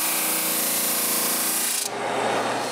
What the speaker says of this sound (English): I have to use the drum sander.